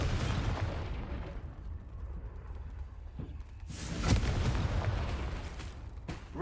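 Fiery Confringo spell blasts in Hogwarts Legacy, a few bright bursts and booms standing out over a steady, rumbling battle din, with a stronger blast near the middle.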